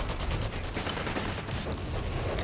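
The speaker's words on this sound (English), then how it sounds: "The Mortar is working away on the Panzer Grenadiers." Mortar fire in Company of Heroes 3 during a 2v2 tournament match, heard as dense, continuous battle noise with overlapping blasts and gunfire-like bursts throughout.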